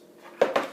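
A fork mixes crushed cookies and chocolate cream in a dish, making two quick, close metallic clinks against the dish over a quiet background.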